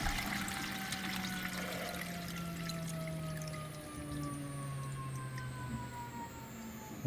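Resin 3D printed part being washed in a wash/cure station, a steady liquid swishing and pouring churn with a faint motor hum running continuously and close.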